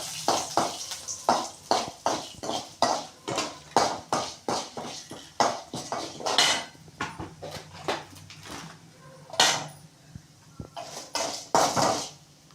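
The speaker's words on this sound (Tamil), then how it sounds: "உளுத்தம்பருப்பு ரெண்டு காஞ்ச மிளகா நல்லா இது மாதிரி வதக்கிக்கோங்க" Urad dal and two dried red chilies are stirred in a pan for a tomato chutney, a rhythmic series of spoon-against-metal scrapes and clinks that repeat steadily, close and with no talking.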